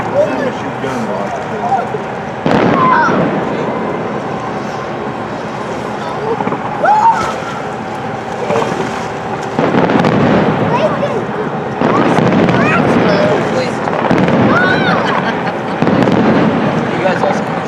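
The Disney fireworks finale bursts in from a distance near Camelot Inn as repeated booms and crackles, with people talking over the show throughout.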